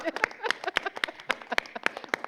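Sparse clapping from a small audience at a panel discussion on TV advertising: a handful of distinct, crisp claps in an irregular rhythm, fairly close, with gaps between them.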